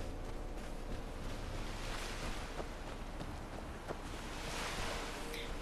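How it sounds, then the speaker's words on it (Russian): Continuous surf washing against a shore in Skyrim, a broad steady roar of waves with wind-like hiss, no distinct breaks, alone without speech. "Прибой прикольно сделали."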